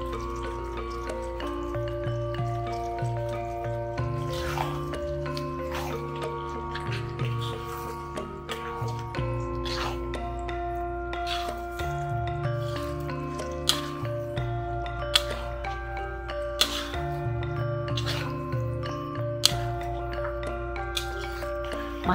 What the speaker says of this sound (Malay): Masukkan cendawan sisir dan gaulkan sebati.